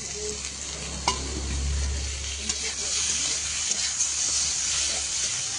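Fried shrimp with potol and potato sizzling steadily in a pan, a close continuous hiss with a few faint clinks from stirring.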